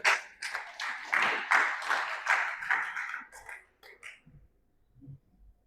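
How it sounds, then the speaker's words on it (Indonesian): Church congregation during a sermon claps in applause, loud and dense at first, then thinning to a few scattered claps and fading into quiet. "tepuk tangan bagi Tuhan"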